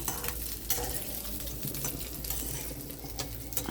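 Onions sautéing in a hot pan give a steady close sizzle, broken by a few sharper scrapes and clicks of stirring, with no voices over it.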